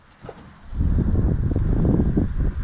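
Low rumbling wind buffets the microphone, starting quiet and then gusting steadily and strongly for the rest of the clip, with no voices.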